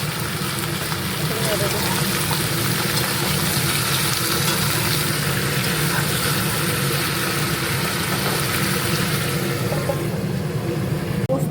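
Chicken pieces fry and spatter in a covered pan, a dense continuous sizzle with small crackles throughout, heard steadily and fairly loud for over ten seconds, without any talking.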